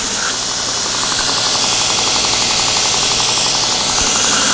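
A worn abrasive belt grinds a metal workpiece on a surface grinder, a loud, steady, harsh rasping roar with a faint rapid pulsing that holds unbroken throughout.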